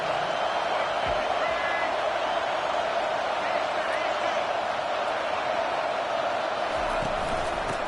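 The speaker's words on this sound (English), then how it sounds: "This crowd bringing the energy and noise early." Football stadium crowd creating a steady, dense roar of many voices, loud and continuous throughout without a break.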